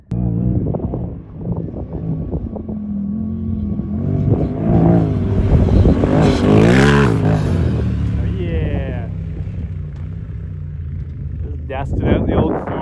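A Polaris RZR side-by-side engine revs up and builds into a loud, rising roar for a wheelie, nearby and buffeted by wind noise, with voices talking and shouting over it.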